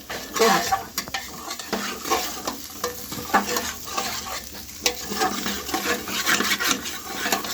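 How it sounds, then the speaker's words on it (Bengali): Vegetables being stirred in a pot of chicken stew, with repeated scraping and clinking of a utensil against the pot over a steady sizzle, close and fairly loud, no talking. "সবজিগুলো দিয়ে একটু নাড়তে হবে।"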